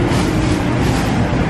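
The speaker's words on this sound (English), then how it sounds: "first time on a choo-choo train" A passenger train rolls along the rails, a dense, loud continuous rumble and rattle heard from on board.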